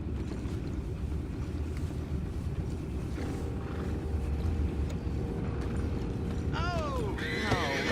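Horses whinny and neigh near the end while hooves clip-clop steadily over a windy outdoor backdrop in a Western setting, with voices talking faintly underneath.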